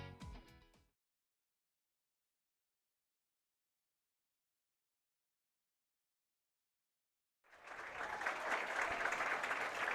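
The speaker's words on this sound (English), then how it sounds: "getting a nice round of applause from the homecoming crowd" After a brief musical sting and a long silence, a homecoming crowd at a high school football game breaks into sustained, steady applause that continues to the end.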